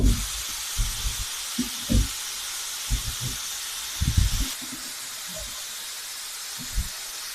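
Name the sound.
pressure cooker whistle releasing steam while cooking boti saaru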